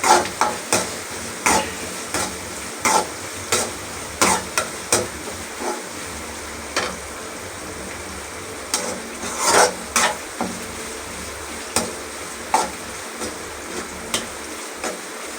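Green chillies and curry leaves fry in a pan with a steady sizzle, broken by regular sharp clinks and scrapes as a spoon stirs against the metal. A short quiet stretch falls midway, and no one speaks.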